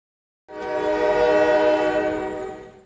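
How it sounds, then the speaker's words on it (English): A Norfolk Southern GP38-2 diesel locomotive, number 5650, sounds its horn at a railroad crossing in Elkhart, Indiana: one loud, steady, close blast that holds for over two seconds before easing off. "we were stopped at a railroad crossing where NSGP 38-2, number 5650, was just about to cross"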